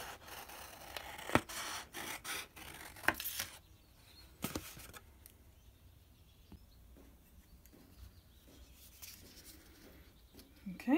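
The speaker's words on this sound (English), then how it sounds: "nice, long, slow cuts like this, deep into the jaws of the scissors and then smoothly down." Quiet scissors make a few crisp snips through paper, spaced apart by pauses, with soft rustling in between.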